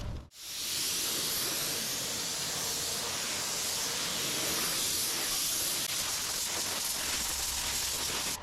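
Resin primer sprayed onto the bare metal of a door on a rare VW oval pickup truck: a close, loud, steady hiss that runs unbroken for about eight seconds, with no talk.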